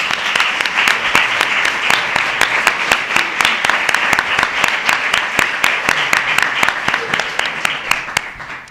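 An audience at a bookshop book presentation applauds steadily, a sustained, fairly loud wash of many hands clapping with no break.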